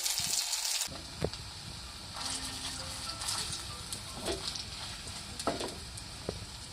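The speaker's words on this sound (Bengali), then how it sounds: "উল্টে পাল্টে সবগুলো ভালো করে ভেজে নেব যেন প্রতি পাশ ভালো মতো এরকম একটু হালকা হালকা বাদামি ডাক হয়" Potato balls frying in soybean oil in a frying pan, a soft continuous sizzle with occasional clicks and knocks as they are turned, fairly quiet and without speech.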